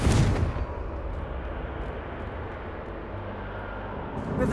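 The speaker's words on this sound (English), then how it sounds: "Confringo!" The Confringo fire spell in the game Hogwarts Legacy bursts with a booming blast, followed by a rumbling, rolling roar that fades slowly, and a second impact sounds near the end.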